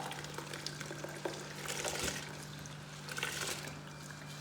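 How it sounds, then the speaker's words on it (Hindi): Rice grains tipped into a pot of boiling water, a steady bubbling and hissing wash with soft pouring and stirring surges over a constant low hum, close by. "पानी को उबाल आ गया है, तो मैं सबसे पहले इसमें चावल ऐड करूँगी।"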